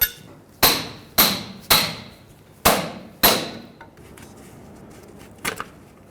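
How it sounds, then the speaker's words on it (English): Six sharp metallic hammer blows punching off a single-use steel clamp on a Toyota 4Runner inner tie rod boot, irregularly spaced and ringing briefly, then a faint rattle near the end; close and loud. "You take a pry bar and a hammer and you punch it right off."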